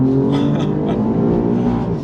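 A 2024 Alfa Romeo Giulia Quadrifoglio engine pulls hard in second gear, its loud, steady harmonic roar climbing in pitch from inside the cabin with no break.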